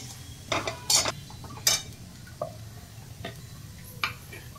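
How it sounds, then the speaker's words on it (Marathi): Dried fish being sautéed in a pan, with a few sharp metallic clinks and scrapes of a spatula against the pan over a quiet, low sizzle. "सुकट ही आपल्याला चांगली परतून घ्यायची आहे।"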